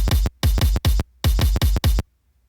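Sliced kick drum sample with hi-hat spill loaded in the Drum Clone plugin, seven punchy hits in a syncopated pattern with bright hat noise on each, loud and dry, then silence.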